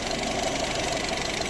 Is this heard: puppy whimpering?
no